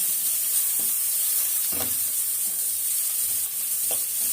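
Carrot sautéing in a frying pan for a breakfast dish, a steady close sizzle with a few soft stirring scrapes.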